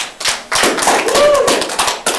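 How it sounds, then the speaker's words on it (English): Applause from an audience at a school scary-story event, a short burst of hand clapping that fills the moment, with a few voices and cheers mixed in. "Let's give her a round of applause."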